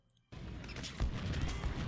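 A rifle volley in the Civil War strategy game Ultimate General: Civil War, a sudden burst of massed musket fire followed by a rolling crackle of shots, fairly quiet overall.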